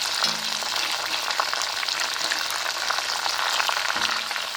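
Herbal hair oil ingredients fry on low heat, giving a steady, even sizzle with faint stirring scrapes that continues unbroken throughout, close and moderately loud with no voices.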